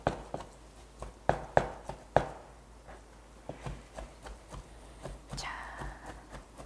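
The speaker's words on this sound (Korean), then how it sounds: "이렇게 마구 썰기를 칼 끝을 잡고 마구 썰기" A kitchen knife rough-chops vegetables on a cutting board for Korean gyuasang dumplings, the cook gripping the blade tip, giving a string of close, sharp, irregular thuds and taps.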